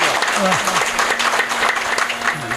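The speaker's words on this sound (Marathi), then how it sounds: "एकदा मोठ्यानं टाळ्या वाजवा" Loud, sustained clapping from an audience at a Ramayana katha gathering in Ghagarwada, a dense continuous patter filling the whole stretch with a steady hum and brief tonal voices underneath.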